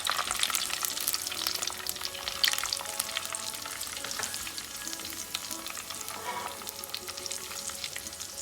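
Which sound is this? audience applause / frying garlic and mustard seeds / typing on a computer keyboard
frying garlic and mustard seeds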